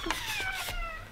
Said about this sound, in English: He's a Scottish Fold cat, and I like him a lot.